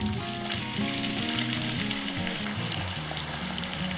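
Chopped onion and whole spices sautéing in oil in a saucepan on medium heat, giving a steady, even sizzle that runs throughout beneath low tonal background sound.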